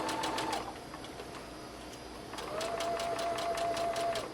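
A sewing machine runs in two short bursts with a pause between, stitching a pillowcase dress seam forward and then in reverse, its rapid needle clatter close and steady over a quiet room.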